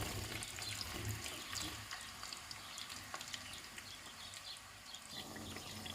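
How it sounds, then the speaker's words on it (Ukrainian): Steady sizzling of onion frying in hot oil in a pan, a dense crackling hiss that continues throughout with faint stirring. "І жарю її до світло золотистого кольору або до такого прозорого."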